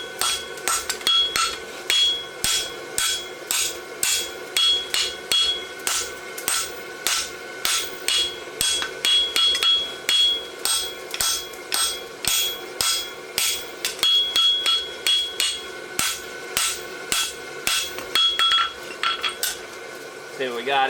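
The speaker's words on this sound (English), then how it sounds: "You want to keep your steel straight while you're bumping it so you can actually upset it and get material in there" Steady rhythmic hammer blows ring out on hot steel as a blacksmith bumps and upsets a bar for a roadster horseshoe at the anvil, dozens of sharp metallic strikes in regular bursts with ringing overtones, close and loud throughout.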